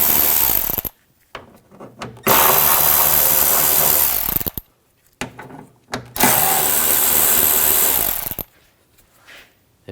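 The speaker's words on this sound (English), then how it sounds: "Underneath, we're going to take these screws out. We're going to use an 8mm socket." Power tool with an 8mm socket spins out grille screws underneath a 2006-2009 Mercedes-Benz E350, loud close whirring in two long bursts, with several short bursts between them and quiet gaps.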